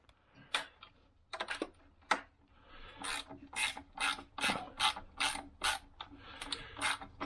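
Bolts come off a bent intake manifold bracket on a Jeep Wrangler 3.6L, with close, quiet bursts of quick ratcheting clicks that start and stop repeatedly and no voices.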